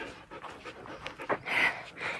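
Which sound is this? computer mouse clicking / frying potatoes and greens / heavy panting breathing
heavy panting breathing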